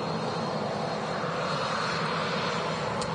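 Turkish Airlines Airbus A330 taxiing out at Manchester Airport, a steady broadband jet engine rumble and hiss that holds even and fairly loud throughout, with no voices.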